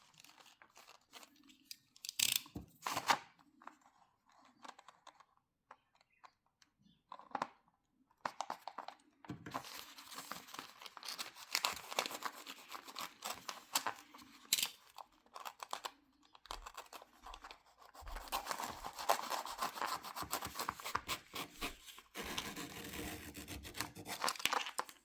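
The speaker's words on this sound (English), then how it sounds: "What I'm going to do is use a knife, a very sharp knife." A very sharp knife slices vinyl wrap on a cupboard drawer front, giving soft scraping, crinkling cuts in irregular bursts close by, with handling noise between strokes and no talk.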